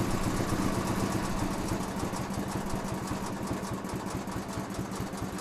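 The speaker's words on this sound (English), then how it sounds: "You want to hear a good slow running Briggs?" Briggs & Stratton opposed-cylinder flathead engine on an MTD tractor idling very slowly, a steady close chugging pulse with an even rapid beat and no talk over it.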